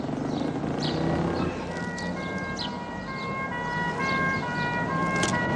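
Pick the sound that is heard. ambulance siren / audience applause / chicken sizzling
ambulance siren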